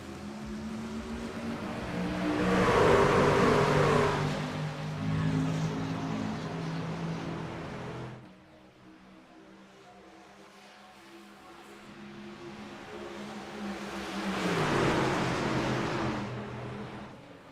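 Race trucks of the NORA Truck Series roar past at Pocono Raceway, engines swelling loudly as a pack passes, fading to a lower drone, then surging again near the end; no talk.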